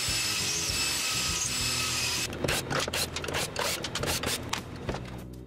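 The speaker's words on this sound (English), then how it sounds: "I scraped off the old finish from the wood." Rough, rhythmic scraping strokes as old finish is scraped off wood, close and fairly loud, following a stretch of steady background noise.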